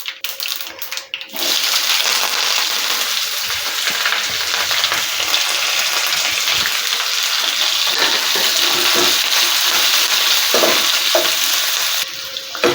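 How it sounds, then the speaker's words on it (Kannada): Onion, curry leaves and green chilli frying in a pan, a steady dense sizzle with stirring scrapes that runs loud and unbroken for most of the stretch, with no one talking. "ಸ್ವಲ್ಪ ಆನಿಯನ್ ಲೈಟ್ ಕಲರ್ ಬರೋವರೆಗೂ ಫ್ರೈ ಮಾಡ್ಕೊಳ್ಳೋಣ, ಲೈಟ್ ಬ್ರೌನಿಶ್ ಆಗೋವರೆಗೂ"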